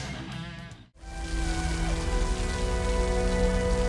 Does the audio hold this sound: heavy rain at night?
yes